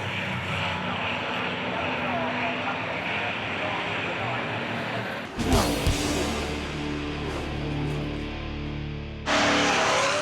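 NASCAR Toyota Camry race cars battling at Brands Hatch, a steady loud engine roar that swells abruptly as cars pass, with a commentator talking over it.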